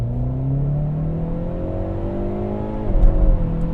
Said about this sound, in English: We'll do a second gear pull.